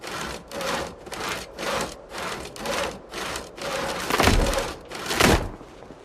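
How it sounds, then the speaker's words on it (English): Sawing a log in the zombie survival game Project Zomboid: steady back-and-forth saw strokes on wood, about ten rasping pulses in an even rhythm, close and clear, ending in two heavier strokes, with no talk. "Saw log."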